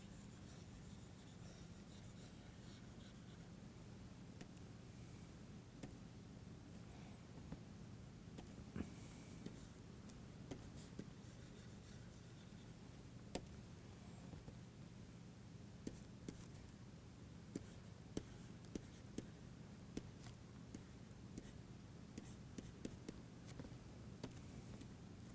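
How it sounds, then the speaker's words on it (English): Handwriting during an engineering lecture on diffusion equations: faint, intermittent pen scratches and small ticks over a low steady room hum, with no speech. "So, let me write it again for you."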